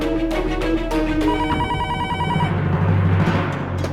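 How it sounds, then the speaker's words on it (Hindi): A landline telephone rings with a steady electronic trill that keeps going, shifting partway into a busier, denser stretch of tones and noise. "एक काम करती हूँ, लैंडलाइन पर फोन कर देती हूँ।"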